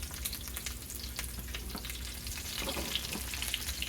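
Food frying in oil in a pan, two pieces cooking at once, with a soft steady sizzle and scattered crackles and pops, close and fairly quiet.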